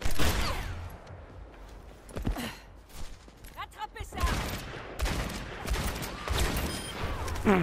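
Rapid rifle gunfire from Ashe in the shooter game Overwatch, loud bursts and repeated shots mixed with other game effects, with someone talking excitedly over the action.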